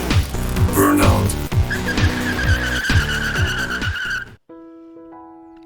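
A 1980 Ford Mustang Fox Body with a turbo four-cylinder, a barn find, revs hard in a burnout, with repeated engine pulses and rising tire squeal that cut off abruptly, followed by a quieter steady tone.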